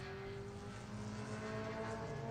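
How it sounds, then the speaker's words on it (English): Rally cars on the Harlech stage: a steady, loud engine roar with a droning tone that holds without pause, close by and with no voices over it. "cars coming through now"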